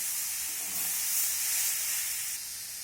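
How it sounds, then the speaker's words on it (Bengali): Snake gourd and onions fry in a pan while being stirred together, giving a continuous close sizzle and hiss with no talking. "এখন সব কিছু একসঙ্গে আমি নাড়াচাড়া করে বেশ কিছু সময় ধরে এটাকে ভেজে নেব।"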